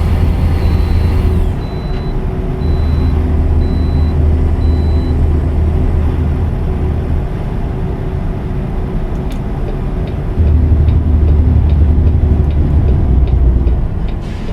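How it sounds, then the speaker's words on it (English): An American Truck Simulator truck hauling a grain load toward McAllen, Texas, with a loud, steady low engine drone, a high hiss fading out early on and faint ticking throughout. "Love the sound of this truck."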